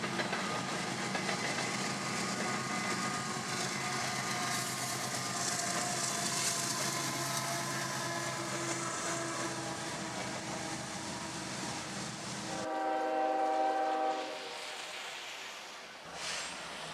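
A CSX freight train rumbles steadily with a mix of engine drone and rolling wagons, helpers being two ES44AH units and an SD40-3; near the end a louder, tonal engine note swells briefly.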